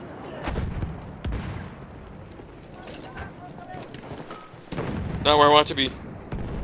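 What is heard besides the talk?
machine gun fire in Battlefield 1, video game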